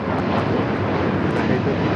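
An airliner takes off from runway 25 right at Los Angeles International Airport, its jet engines making a loud, steady, broadband roar from start to finish.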